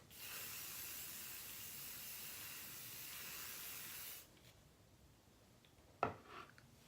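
A steady hiss of aerosol hairspray on curled hair lasts about four seconds and then stops, followed by a brief soft rustle and click in quiet.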